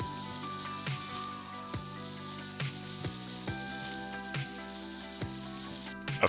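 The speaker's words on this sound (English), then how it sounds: "Stir these guys up and saute for a good 8 minutes." Onions sautéing in a pan, a steady close sizzle and crackle running throughout with occasional stirring clicks and a brief louder burst at the end.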